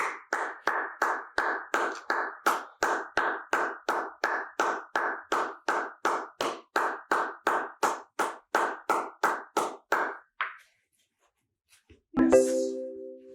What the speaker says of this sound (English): while you clap your hands